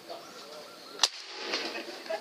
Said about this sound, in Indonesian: tembakan yang pertama untuk senapan nomor 2 warna merah